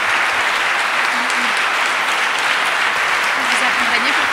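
Loud, sustained applause from the audience at a media awards ceremony, a thick wash of many hands clapping throughout, with a voice briefly audible underneath.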